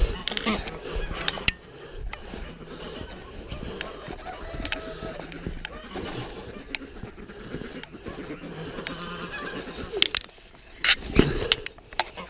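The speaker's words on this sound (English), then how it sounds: "There's a goose." A goose honks a few times outdoors in a poultry yard on a cold, frosty morning, with brief honks scattered over steady background noise and handling sounds.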